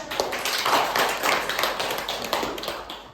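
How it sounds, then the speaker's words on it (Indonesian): A primary school class clapping hands together during a lesson, a few seconds of quick, uneven claps from many children close by, loud and without talk. "Tepuk tangan dulu."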